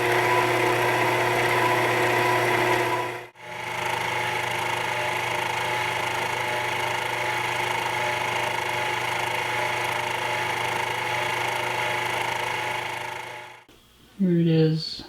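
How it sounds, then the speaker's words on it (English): Steady, continuous machine drone while the center of a tap is polished with a diamond abrasive stick, running almost unbroken with two brief dropouts, then a short burst of voice near the end. "I'm just using a standard stick and just polishing this center up."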